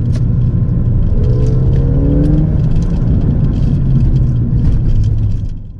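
Ford Fiesta ST engine blipped on a manual downshift, rising briefly in pitch before settling into a steady low drone over loud road rumble inside the car; no talk.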